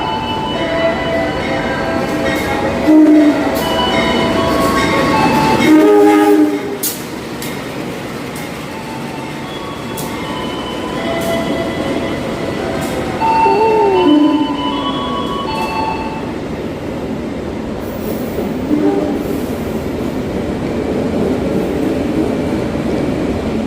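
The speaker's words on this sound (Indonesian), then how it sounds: "yang akan segera melintas di jalur 4 di sebelah kereta api Taksaka ini adalah kereta api Gajah Wong" A passenger train passes steadily on the adjacent track close by at a station, wheels clattering and occasionally squealing, with a couple of louder thumps as carriages go by.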